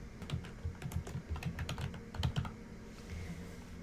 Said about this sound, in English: you'll type in the name of the business